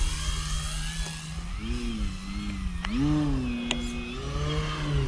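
An E-flite Extra 300 3D RC plane with a 1.3 m wingspan flies with a steady buzzing electric motor whose pitch rises and dips as the throttle changes. It stays continuous and fairly close for the whole stretch.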